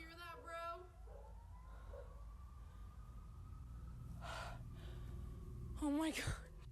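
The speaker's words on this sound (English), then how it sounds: "Right when she came out, she heard sirens." Police sirens wail from outside a house, a rising and falling tone heard at moderate distance beneath breathing, gasps and brief voices.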